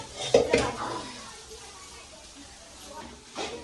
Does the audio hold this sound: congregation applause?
no